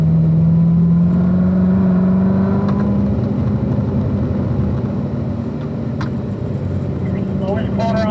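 A race car accelerates out of a curve on the Spring Mountain track, its engine a steady loud drone that pitches up through the exit, with a voice speaking over it.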